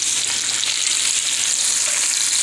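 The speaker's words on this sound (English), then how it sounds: "Add about a cup of oil. So now I'm going to be adding my cut up onions." Cut white and red onions fry in about a cup of hot oil, filling the air with a loud, continuous, even sizzle heard up close.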